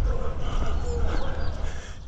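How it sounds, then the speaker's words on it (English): Dogs barking and yipping along a street in Ecuador, a busy outdoor mix of several dogs calling over steady traffic and street noise, with faint voices nearby. "there is a lot of dogs everywhere"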